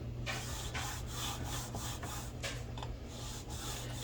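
Microfiber cloth wiped back and forth over a greasy stovetop, a close, steady scrubbing rasp with repeated rhythmic strokes and no talking.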